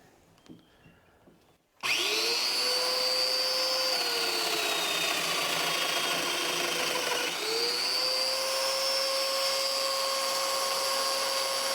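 A power drill bores holes into a hardwood butcher block. After a quiet start, a loud, steady high whine runs continuously and dips in pitch once midway as the bit bites deeper.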